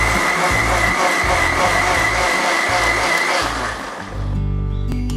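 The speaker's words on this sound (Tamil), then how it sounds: "நல்லா பேஸ்ட்டாக அரைச்சிக்கணும். இன்னும் கொஞ்சம் அரைக்கணும்." A mixer grinder runs steadily, loud and close, grinding soaked lentils for vada into a paste, its motor whine constant before briefly dipping and then resuming with the jar rattling.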